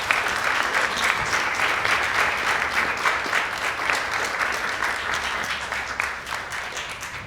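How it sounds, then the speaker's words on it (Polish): An audience at a Chopin Institute book event in Warsaw applauds translator John Comber, with dense, steady clapping that holds near and full for the whole stretch before easing slightly at the end. "poproszę o te brawa dla Johna Combera"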